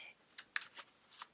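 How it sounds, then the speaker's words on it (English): Tarot cards being shuffled, several quick crisp riffling bursts in an uneven rhythm, close and fairly quiet with no talking. "let me get shuffling"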